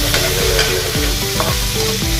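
Tofu stir-fries in hot oil in a pan, giving a loud, close sizzle with quick stirring scrapes, set against background music.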